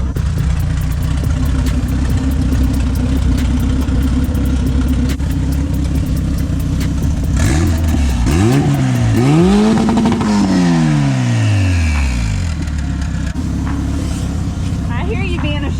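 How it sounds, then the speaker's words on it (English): A hatchback's engine idles loudly, then revs up and down in several sweeping pulls while its two-step launch control holds the revs, with brief talk in the background. "I just had to make sure the two-step still works."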